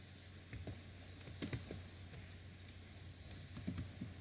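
Typing on a computer keyboard: quiet, irregular key taps and clicks close by, with a few sharper strokes over a low background hum.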